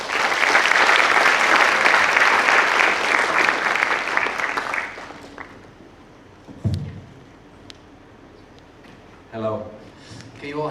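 Lecture audience giving a warm round of applause to welcome a guest speaker, dense sustained clapping that fades after about five seconds into room noise, footsteps and thuds, then a voice begins speaking.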